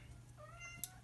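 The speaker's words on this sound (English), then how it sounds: "And that's my cat. She is very excited this morning." A pet cat gives a short, fairly faint meow up close, followed by a sharp little squeak, in an otherwise quiet room.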